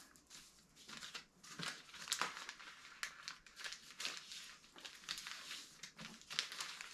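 Crisp paper crinkles and rustles in short bursts as sheets are folded and creased like a paper airplane, quiet and close with no talking.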